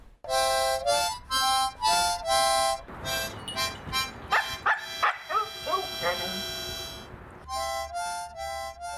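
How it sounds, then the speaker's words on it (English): A husky dog vocalizes close and loud: a run of short, harmonically rich barks, then drawn-out wavering yowls and whines, then more quick barks. "Huskies can bark or make sounds to communicate with their owners."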